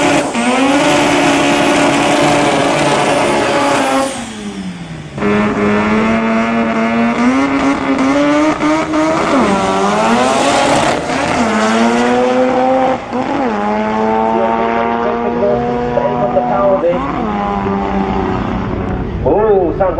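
BMW drag racing car making a run at Tarlton Raceway: a loud, continuous engine roar that climbs in pitch through repeated gear changes. Someone talks over the engine.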